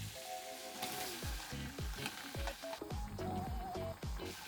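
Cucumber pieces drop into a pot of boiling mirin and sugar sauce, raising a steady sizzle and bubbling with a series of soft rhythmic knocks and clatters, close and fairly quiet throughout.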